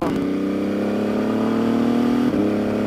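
An MV Agusta motorcycle accelerates hard from second gear with a quick shift, its loud engine note rising steadily, briefly dipping at the gear change, then climbing again close by.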